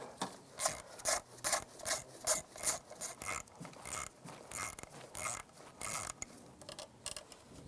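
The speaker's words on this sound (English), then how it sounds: "There's some bolts right here for the bracket. Those are 10mm bolts. Use a 10mm socket, take those out." A socket ratchet works loose the 10mm bracket bolts on a 2006–2011 Cadillac DTS during ignition coil replacement, giving rhythmic, close ratcheting bursts that come in quick repeated strokes.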